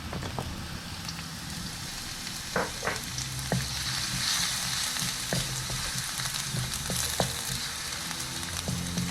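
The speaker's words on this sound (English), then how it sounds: "When the oil is heated up, we are going to add in the garlic" Chopped garlic fries in hot oil in a wok over medium heat, a continuous crackling sizzle broken by occasional sharp clicks and scrapes of a spatula, with no talking.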